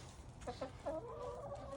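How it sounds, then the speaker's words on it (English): Farm chickens cluck in a short, faint burst of a few calls from a moderate distance, with no talk over them. "There's the chickens."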